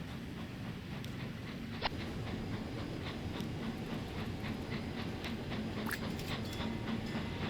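A DMU train rumbles steadily along the line in the railway game Transport Fever 2, a low continuous running drone with light clicks and a faint squeal on top, moderately loud throughout.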